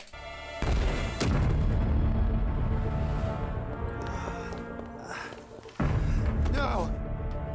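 Tesla cannons fire in the animated film Nimona, heavy booming blasts with a rumbling roar that swells, drops off, then slams back in. A voice talks over the barrage.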